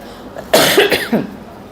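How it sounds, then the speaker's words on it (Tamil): A single close, throaty cough with a short second burst, alone in a quiet room. "லேசாக இருமல் வர்ற மாதிரி இருக்குது"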